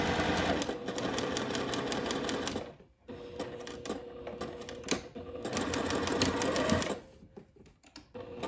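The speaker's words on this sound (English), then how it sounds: "Now we're going to sew this seam at 1/4 inch." A sewing machine runs a quarter-inch seam on a sundress. Its rapid, steady whirring stitches come in two long runs with a short stop between them, close and continuous, with no speech over it.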